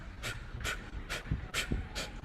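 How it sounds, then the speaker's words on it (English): Rapid fire breathing, with short forceful exhalations driven from the diaphragm in a quick even rhythm of about five puffs, close and fairly quiet. "you come from the pit in the diaphragm and you blast that out"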